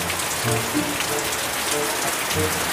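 Steady, dense rain pours on a surface nearby and fills the short stretch as an unbroken hiss, with faint tonal sounds surfacing now and then beneath it.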